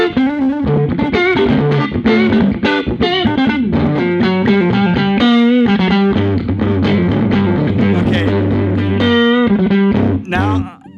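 A dry, distorted electric guitar plays a busy run of picked notes and chords through a Ruby Ray amp with reverb off, with no added echo or ambience.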